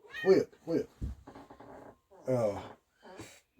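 A house cat meows several times close by, distinct rising calls in short bursts with pauses between them, during a ham radio talk at home.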